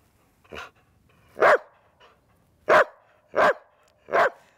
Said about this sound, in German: Das hier ist Finn, ein Australian Shepherd und der hat was ziemlich Cooles drauf